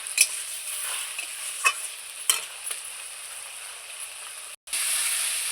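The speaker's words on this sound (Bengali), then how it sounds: "তরকারিটা খুব সুন্দর করে আমার কষানো হয়ে গেছে।" Green chilli curry base being sautéed in a pan for pabda fish jhol: a soft, steady frying hiss with a few light scraping stirs, fairly quiet and close, briefly cutting out near the end before resuming.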